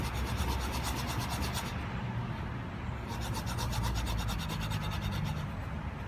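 Steady back-and-forth rasping of 1200 grit sandpaper worked over a metal edge of an Edgun Matador air rifle regulator part, continuous and close, with brief pauses in the scratchy strokes.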